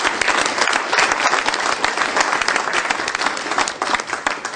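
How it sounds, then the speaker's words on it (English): Loud, sustained applause from a large crowd at a school foundation breakfast, dense overlapping clapping that holds steady and begins to thin slightly near the end. "How about a big round of applause?"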